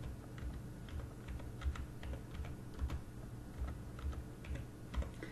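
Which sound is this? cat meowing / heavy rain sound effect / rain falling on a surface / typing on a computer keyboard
typing on a computer keyboard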